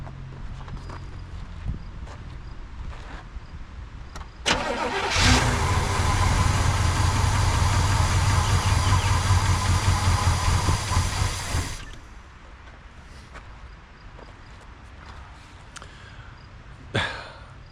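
A 1985 Pontiac Trans Am barn find, unrun for 28 years, cranks and catches: quiet shop ambience, then a loud engine roar that holds for about seven seconds before cutting off, with a few clanks after.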